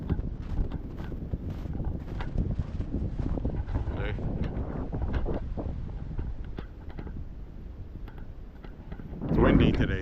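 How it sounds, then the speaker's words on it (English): Wind gusts roar and buffet in the woods during a walk, strong and continuous with rustling bursts, surging again near the end. "It's windy today."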